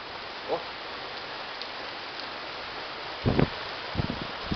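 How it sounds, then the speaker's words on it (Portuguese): A dense, steady wash of arriving rain hisses across surfaces in Belo Horizonte, Brazil, near Independência stadium, with a few louder gusty thumps near the end. "A chuva chegando."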